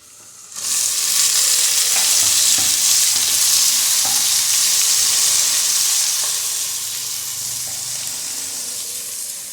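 Garlic, green chili paste and onion frying in a pan while being stirred, a loud, broad, steady sizzle that begins abruptly and then eases slightly, with faint scraping taps.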